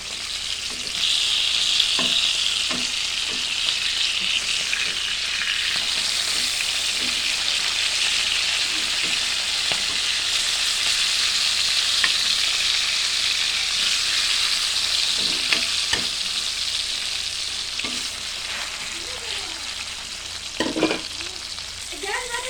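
Jilebi fish (tilapia) frying in a pan, a steady close sizzle with occasional louder crackles and small bursts of spatter throughout.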